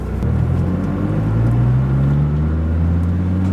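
A Dodge Viper Gen 3 pulls away with a loud, deep engine rumble close by, its pitch rising steadily as it accelerates, with no speech over it.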